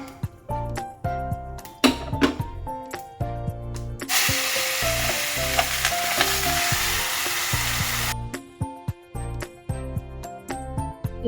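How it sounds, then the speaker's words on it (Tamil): Ground masala paste for a crab masala sizzles loudly in hot oil after a cumin tempering, with a spoon scraping and clanking in a steady stirring rhythm and a sustained burst of intense frying in the middle. "தாளிச்சப்புறம் நல்லா புரிஞ்சப்புறம் நம்ம அரைச்சி வச்ச விழுது போட்டுக்கலாம்"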